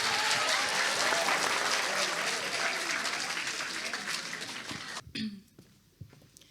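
An audience at a school speaking-contest final in Montpellier claps loudly and steadily for a high-school contestant, dense applause that tapers off over several seconds into scattered claps and a little shuffling.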